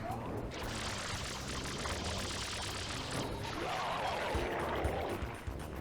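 Continuous water spray in Super Mario Sunshine, a steady rushing hiss of game water that runs unbroken for several seconds, moderately loud, without talk.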